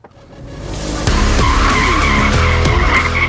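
A Tesla Model S Plaid with the track package's big brake upgrade brakes hard on a wet track, aquaplaning, with loud tire skidding and squealing, engine noise rising, then a sustained scrubbing screech as it slows.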